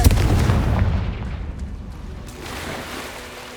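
A Confringo fire spell goes off in the Hogwarts Legacy video game as a loud, deep booming blast that opens abruptly and rumbles on as a heavy, slowly fading roar.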